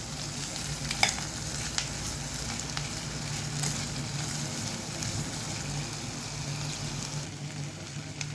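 Peeled, finely diced potatoes fry in a pan for Kerala-style mezhukkupuratti, with a steady soft sizzle and scraping stirs and occasional light clinks close by. No one speaks.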